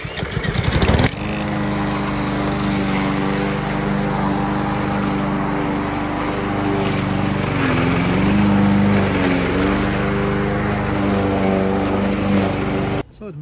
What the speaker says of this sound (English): what you're really gonna like about this lawnmower is how easy it starts